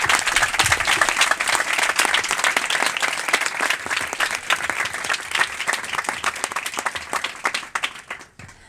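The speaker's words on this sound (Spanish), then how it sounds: "pido un último aplauso para empezar a darle la palabra a ellos" Audience applause at a political meeting on class struggle in France, steady crisp clapping from a crowd that holds for several seconds and then tapers off toward the end.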